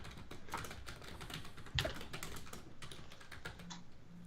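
Computer keyboard being typed on, quick irregular clicks and clacks in bursts, fairly close and moderately quiet, with a few louder keystrokes and no speech.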